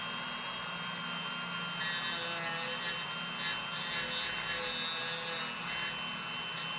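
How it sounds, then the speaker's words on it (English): A Dremel rotary tool works fiberglass around small pins on a molded plastic upper air vent for a Rolls-Royce Silver Cloud, giving a faint, steady grinding rasp in short passes over a quiet background hum. "take a Dremel tool, speed it up a little bit, but I take around these pins and I just slowly work the fiberglass"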